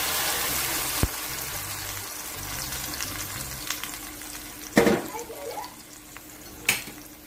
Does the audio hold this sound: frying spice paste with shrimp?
yes